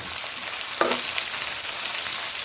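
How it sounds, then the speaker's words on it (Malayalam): Beef and finely chopped green chillies frying in a pan for pickle, a steady loud sizzle throughout with no voices. "ഒരു 7-8 മിനിറ്റ് ഒന്ന് നമുക്ക് ഇത് ഫ്രൈ ആക്കി എടുക്കാം."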